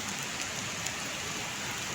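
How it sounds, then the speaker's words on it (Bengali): Torrential rain hammers a waterlogged city street, a dense hiss of drops that stays constant and close, no one speaking. "বৃষ্টি পড়ছে অজর ধারায়"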